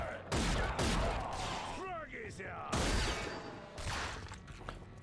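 Pistol fire in the first-person shooter game Rage comes as loud, sharp bursts of shots separated by short gaps, with mechanical clicks between them.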